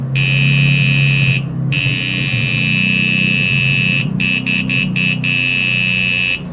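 A loud, piercing high electronic tone sounds continuously, then breaks into several short rapid pulses, over a constant low engine-like hum.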